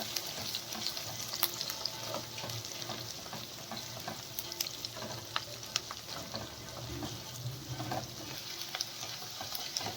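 Chopped onion, carrot and green chili sauté in oil in a pan for upma, a continuous close sizzle with frequent light scrapes and taps of a spoon stirring throughout, and no talking.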